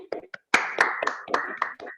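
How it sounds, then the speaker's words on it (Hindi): A few scattered hand claps welcome a speaker at a wellness event, coming as sparse, uneven, close-up slaps rather than a full ovation, with voices mixed in. "हार्दिक वेलकम, एक सुंदर तालियों के साथ वेलकम करना चाहता हूँ"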